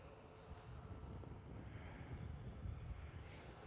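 A Ryanair Boeing 737 MAX descending toward Liverpool Airport, heard as a steady, distant low engine roar with wind rumble across the microphone, faint and continuous with no talking.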